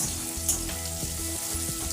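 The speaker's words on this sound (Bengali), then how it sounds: "রসুনে যখন ভাজা গন্ধ বেরোবে তখন একটা পেঁয়াজ আমি এখানে দিয়ে দিলাম" Finely chopped onion frying with garlic in a hot pan, a loud, steady close sizzle with a few faint stirring scrapes.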